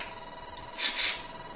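An Allen telephone's bell rings in a brief, loud metallic burst that swells and fades within about a second, heard close up over a steady background hum.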